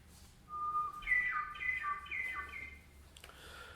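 Slowed-down bird song: long, drawn-out whistled notes stepping between pitches, clear and alone over a faint low hum.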